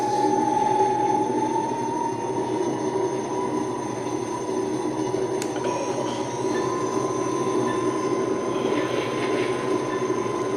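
A Haslab Ghostbusters proton pack wand gives off a continuous electronic whirr with a steady high whine, holding an even level for about ten seconds with no voices.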